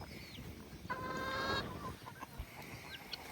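Chickens cluck and squawk nearby over a steady outdoor background, with a brief raised call in the middle.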